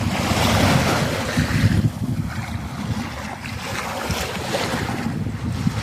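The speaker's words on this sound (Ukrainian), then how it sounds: "Красиві хвилі, які йдуть до берега." Sea waves wash and roll continuously onto the shore, mixed with gusty wind buffeting the microphone, fairly loud with no voices.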